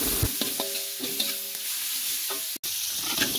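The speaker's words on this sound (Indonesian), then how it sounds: "Kita aduk-aduk ya." Chopped chili, shallots and garlic fry in a pan with sliced green onion, a steady sizzle broken by a few sharp clinks and scrapes of a utensil stirring against the metal.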